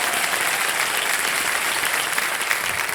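A studio audience applauds on the Kaun Banega Crorepati TV quiz show: dense, steady clapping that fills the whole stretch at full strength, with no voices over it.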